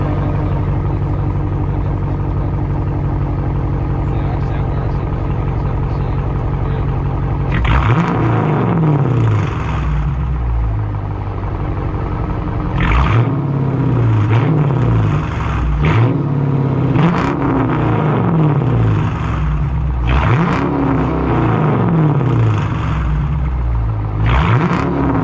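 Dodge Challenger R/T with its mid muffler and resonator deleted, idling with a deep burble, then revving hard in repeated loud, raspy bursts with a crackling drop after each one, close by.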